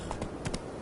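Hooves of Roach, a horse in a video game, beat in a quick, uneven run of muffled clops at moderate loudness.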